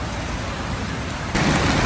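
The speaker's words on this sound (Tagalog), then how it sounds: "Lakas ng ulan ngayon." Heavy rain pours steadily on a city street in Nagoya, Japan, a dense close hiss that intensifies suddenly near the end, with no voices.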